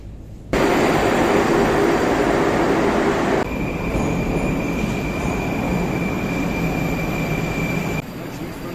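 A loud, continuous rumble of a metro train at a Tashkent station fills the space, with a thin high tone sustained through the middle and a sudden drop near the end.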